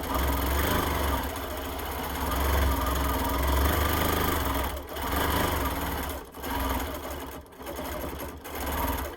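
A sewing machine stitches an alligator quilt, running with a loud, continuous mechanical whir and rapid needle rhythm, briefly pausing and restarting several times near the end.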